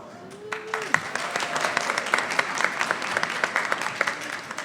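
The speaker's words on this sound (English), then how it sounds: "Please thank you for all the applause for these wonderful speakers." Audience applause at a Latino research summit, honoring a panel of speakers: dense, steady clapping from a large crowd runs throughout, fairly close and even, after a brief tonal sound at the start.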